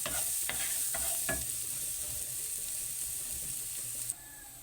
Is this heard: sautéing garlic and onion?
yes